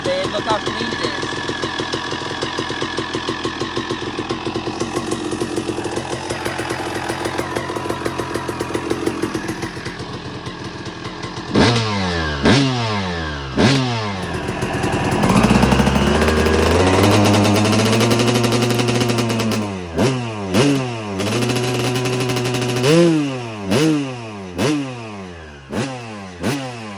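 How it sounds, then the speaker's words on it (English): A 2002 Suzuki RM250 two-stroke dirt bike idles with a rapid buzzing putter, then gets revved repeatedly in sharp rising and falling bursts, loud and close, with a short sustained rev in the middle. "You can hear the idles much better now."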